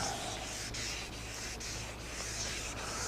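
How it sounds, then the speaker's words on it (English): Steady, wet abrasive rubbing of a sanding block with soapy water on a wood finish, moving back and forth in even strokes, close and continuous, with no talking. "All we're doing is sanding this to where it's flat."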